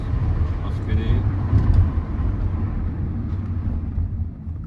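A Peugeot 208 Style with a 1.2 petrol 82 hp engine pulls away on the road with a low, close engine drone under cabin noise, as someone talks over it.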